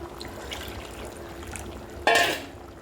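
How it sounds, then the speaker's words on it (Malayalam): Water splashes in from a glass as it is poured into a pot of home-style chicken curry cooked with turmeric and masala, a single loud, brief gush after a quiet stretch of kitchen background. "ഒരു ഗ്ലാസ് വെള്ളം കൂടെ നമുക്ക്"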